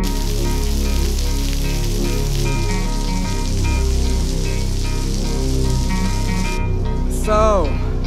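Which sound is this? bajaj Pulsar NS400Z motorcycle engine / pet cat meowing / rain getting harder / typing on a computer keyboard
rain getting harder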